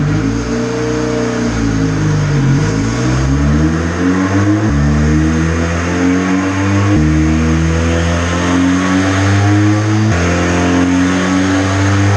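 Honda engine revving hard on a dyno with altered ignition timing, a loud, sustained mid-pitched roar with several rising sweeps as it climbs through the revs, punctuated by abrupt shifts in pitch.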